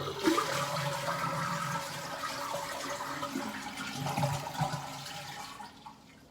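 A toilet flushes nearby to drain the tank before a flapper replacement, rushing and gurgling water swirling steadily for several seconds before tapering off as the tank drains.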